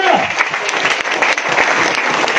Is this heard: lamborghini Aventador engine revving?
no